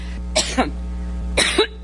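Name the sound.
coughing fit of a woman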